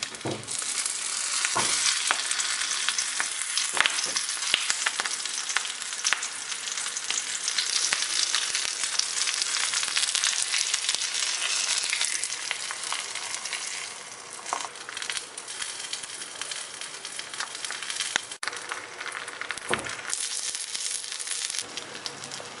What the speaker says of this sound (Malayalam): നമുക്കിനി ചെമ്മീൻ പൊള്ളിച്ചെടുക്കാം.